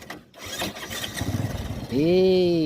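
A Rouser 135 motorcycle engine, just overhauled, is cranked with rough mechanical noise and then catches. It settles into a loud, steady idle close by.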